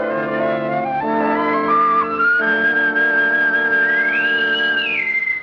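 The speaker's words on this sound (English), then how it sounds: "A bosun's whistle. They're piping us aboard." A bosun's whistle pipes aboard with a sustained shrill tone that holds, rises and warbles, loud and alone.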